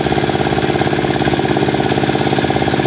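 A pump machine draws liquid mud out of a pond as a steady, loud mechanical churn with a fast regular pulse, running continuously and close by.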